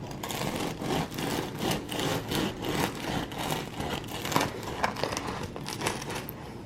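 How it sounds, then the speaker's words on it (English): A knife saws through a crusty pumpkin sourdough loaf with a dark, crispy top and very dark bottom, giving steady close crackling and scraping crunches that run on and off for several seconds. "Let's cut into it."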